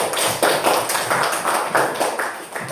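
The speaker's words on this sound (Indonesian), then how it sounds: "Beri tepuk tangan." Hands clapping in a classroom-style quiz session, a small group producing a run of sharp, close claps in an uneven rhythm for a few seconds.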